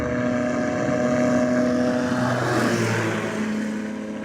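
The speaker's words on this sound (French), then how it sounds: "Le meilleur moyen, c'est l'avion." A small propeller airplane in flight gives a continuous, fairly loud engine drone, steady throughout with a slight shift in pitch near the end and no one talking.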